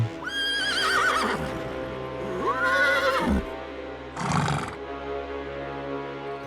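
Horse sound effect for a Thai ghost story about riders fleeing a giant snake on horseback: loud, repeated whinnying neighs over a steady background, with clip-clopping hooves underneath and no talking.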